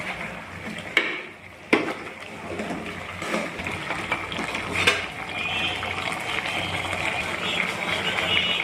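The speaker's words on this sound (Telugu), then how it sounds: "ఇప్పుడు మధ్యలో ఒకసారి కలుపుకుంటూ ఉండాలి, లేదంటే చికెన్ అడుగంటిపోతుంది." Chicken curry is stirred in a cooking pot as the chicken releases its water, giving a continuous wet bubbling and sloshing with a few sharp scrapes and clanks of the spoon against the pot.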